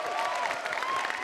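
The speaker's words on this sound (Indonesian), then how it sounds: "Mana tepuk tangan buat juri potlok?" A television studio audience applauds the judges with steady, moderately loud clapping, mixed with light crowd noise.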